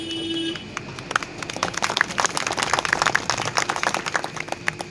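An audience at a village Ambedkar Jayanti gathering claps in scattered, uneven bursts that keep going for several seconds, fairly close and loud, with no talking over it.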